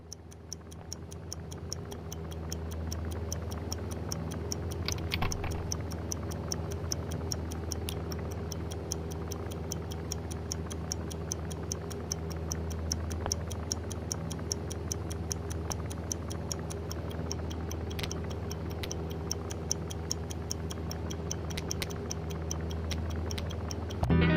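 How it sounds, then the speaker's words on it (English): Steady clock-like ticking of a bomb in the VR spy puzzle game I Expect You To Die, an even tick-tock pulse that runs for the whole stretch at moderate level over a low background hum, with no voices. "Oh, the old ticking bomb."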